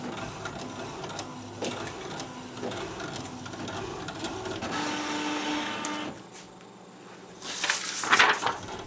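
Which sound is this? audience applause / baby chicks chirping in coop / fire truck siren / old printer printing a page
old printer printing a page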